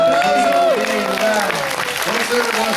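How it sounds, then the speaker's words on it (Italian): An audience on a cruise ship festival show applauds loudly and continuously, while a host's voice carries over the clapping. "facciamo un applauso"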